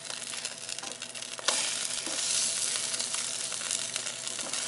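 A cinnamon-coated piece fries in a nonstick pan on a Rival single electric burner, producing a continuous close sizzle that swells when the piece is flipped, with no voices.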